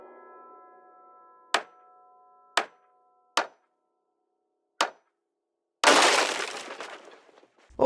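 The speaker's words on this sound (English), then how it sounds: "the game now plays an object breaking noise when you fail to pick up, say, a piece of furniture and it shatters to pieces" Project Zomboid furniture breaking apart after a failed pick-up: four sharp wooden knocks spaced about a second apart, then a loud, close crash of shattering debris that trails off, with no voices.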